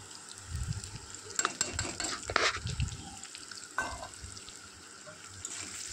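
Spices being stir-fried with leafy greens in a pan give a quiet sizzle broken by irregular scrapes and clinks of a spatula, a few louder stirring strokes spaced out, with faint low thumps and no speech.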